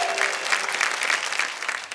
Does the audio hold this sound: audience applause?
yes